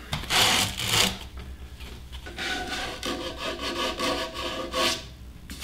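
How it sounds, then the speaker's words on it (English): Wood sanding on a lathe as an off-center woodturned tea light spins, a steady close rubbing hiss that swells and eases in strokes, with the lathe's low hum running underneath throughout. "So I'll sand on a little bit"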